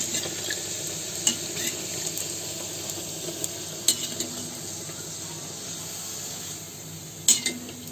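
Puris frying in hot oil while more oil is spooned over them, a steady close sizzle with a few sharp metallic clinks of the spoon against the pan.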